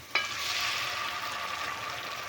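Brain masala (maghaz fry) with garlic paste and a splash of water sizzles steadily in the pan, a close, even hiss that holds throughout after a brief clink of a utensil at the start.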